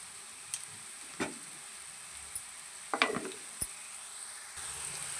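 Ginger-garlic paste fries with a soft, even sizzle while a spoon scrapes and stirs the pan in a few sharp, separate strokes; no one speaks.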